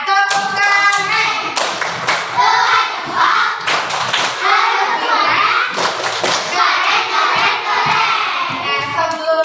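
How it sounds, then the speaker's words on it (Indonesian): A classroom group of children performs the rhythmic 'tepuk keren' clapping chant, with patterned bursts of claps and taps mixed with loud, chanting young voices, close and energetic. "Coba tepuk keren untuk semuanya. Tepuk keren."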